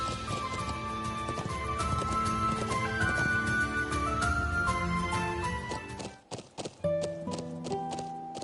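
Horse hooves clip-clop steadily during a ride in the video game Trails into Reverie, the rhythmic steps sitting under game music, with a brief break near the end before the scene resumes.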